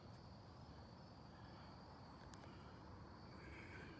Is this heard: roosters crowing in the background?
no